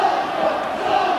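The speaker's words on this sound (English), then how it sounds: "Listen to the crowd, they're really getting behind the Reds." A rugby league crowd roars steadily in support of Salford in a 1997 match against Wigan, a dense, continuous wash of massed voices with no distinct claps or breaks.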